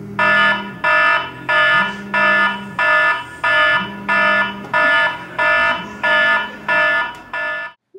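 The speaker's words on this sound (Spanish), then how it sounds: "esa alarma la mayoría de veces logra levantarme y otras veces no" An electronic alarm beeps in a steady repeating pattern, about ten loud bursts of harmonic tones with short gaps between them.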